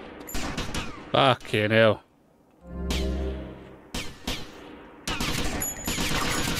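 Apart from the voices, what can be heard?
gunfire in the video game GTA Vice City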